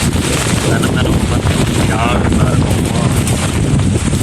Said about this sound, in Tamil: அப்படி ஒரு காற்று மடிக்குது